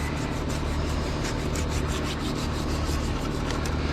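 A knife saws through the tough hide of a large shark over 100 pounds as its fins are cut off, a close, steady rasping scrape with a quick repeated stroke rhythm and no speech.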